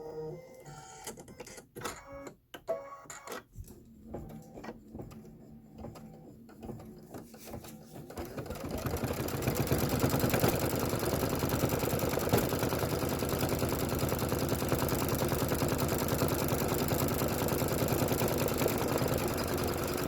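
Computerized embroidery machine stitching the window outline on a Kimberbell Main Street Fire Station design, a steady, fast mechanical whir with rapid needle clatter that starts up after a few seconds of quieter handling noises and then runs continuously.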